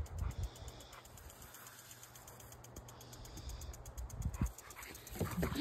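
An old dog runs outdoors in a garden, panting close by in short bursts over steady outdoor background noise, with a few faint thumps near the end.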